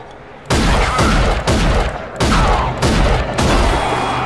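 Gunfire in the video game Rage: loud, close bursts of rapid shots in several sustained volleys separated by brief gaps, with no speech.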